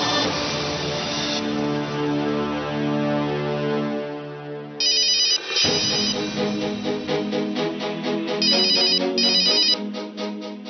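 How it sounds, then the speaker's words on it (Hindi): A phone ringtone plays loudly and steadily, a sustained melodic ring that pauses briefly near the middle, then resumes with a brighter repeating pattern of tones, heard alone with no voices. "ये अभिमन्यु क्यों रघु को फोन कर रहा है?"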